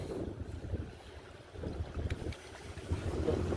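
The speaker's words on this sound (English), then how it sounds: "I'm waiting for the wind to really kick up." Wind gusts blowing outdoors in a steady broadband rush that swells and eases, fairly close with microphone buffeting, no talking.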